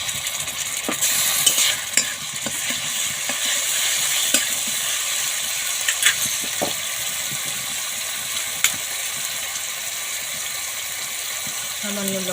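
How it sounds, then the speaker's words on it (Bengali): Tomato paste sizzling in hot oil in a pan for a koi fish Ganga Jamuna curry, a steady close fry with repeated scrapes and taps of a stirring spoon throughout. "তেলের মধ্যে দিয়ে দেবো টমেটো বাটা,"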